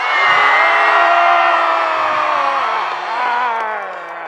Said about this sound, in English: So as loud as you can, we're gonna scream, get all of our energy out.